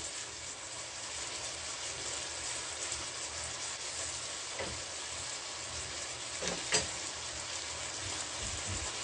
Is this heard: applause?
no